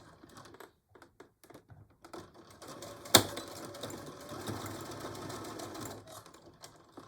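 A sewing machine stitches over a nylon coil zipper on a pillow cover, starting with sparse quiet clicks, then a sharp snap followed by a steady, faint mechanical whir of stitching.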